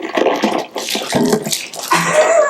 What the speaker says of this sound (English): So we've cleaned up after our little water explosion.